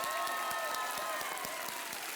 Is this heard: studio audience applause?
yes